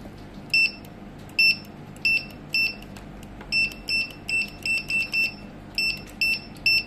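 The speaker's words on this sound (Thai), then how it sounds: "โดยใช้กับสแกนเนอร์นะคะรุ่น F790 นะคะยี่ห้อ Cino นะคะจะเทสให้ดู" A Cino F790 barcode scanner reading a code through a clear plastic sleeve wrapped three times in plastic gives about a dozen short, bright electronic beeps, some paired, over a faint steady room hum.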